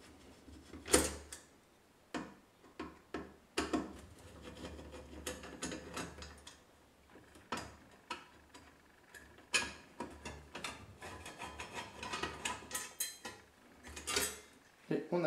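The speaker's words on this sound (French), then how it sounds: "On prend la platine supérieure, on retire 4 petites vis." Small screws being taken out of the upper mounting plate of a PC hard drive in a Mini-ITX build, with sharp metallic clicks and taps arriving in irregular bursts, close and fairly quiet, with no talking.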